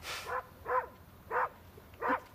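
A dog barks four times in a steady, evenly spaced rhythm, each bark short and fairly close, with a quiet background and no talking.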